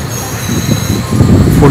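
The Bangalore–Karaikal Express 16529 rolls along the rails near Koothakudi railway station, a close, loud, continuous rumble of wheels and carriages with a faint metallic squeal rising near the end.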